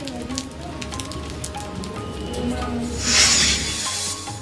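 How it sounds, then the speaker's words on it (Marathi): Steady monsoon rain falling in Nashik, a dense broadband hiss with scattered drips, briefly swelling louder near the end. "नाशिकच्या विविध भागात पावसानं हजेरी लावली"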